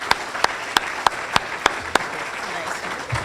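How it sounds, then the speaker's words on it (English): A handful of sharp, evenly spaced claps from a small audience at a Kiwanis club meeting, fairly close and rhythmic, trailing off after about two seconds into quiet room noise. "another applause, please."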